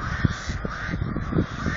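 Crows cawing repeatedly in a loose rhythm as they are chased away outdoors, harsh calls rising over steady background noise, fairly close and loud.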